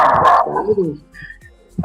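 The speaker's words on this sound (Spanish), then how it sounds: "Apaguen sus micrófonos, que están ahí un perrito." A small dog barks and yips in the background of a remote debate call, a few sharp barks and a whimper partly overlapping a man's speech.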